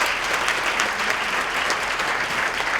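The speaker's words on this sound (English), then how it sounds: "Give him a round of applause." Audience applause at a speech, a dense even wash of clapping from a crowd, sustained and steady throughout at moderate distance.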